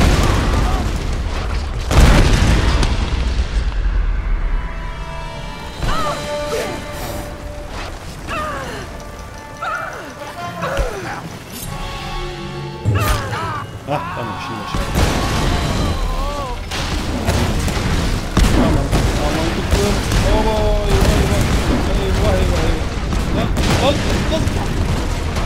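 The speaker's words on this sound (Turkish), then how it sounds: "Yine patlıyor ortalık, yine gidiyor." Explosions in the video game Tomb Raider: loud booming blasts, crashes and rattling bursts that keep rolling through a chaotic stretch of game sound.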